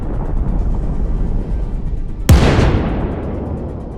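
A tank gun fires once in Ukraine war footage, a single sharp, heavy blast midway that rolls off into a fading boom over a low background rumble.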